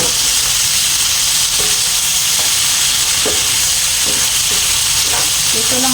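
Meat sizzling and frying in a pan with butter, a loud, continuous hiss and crackle with occasional faint scraping taps from stirring.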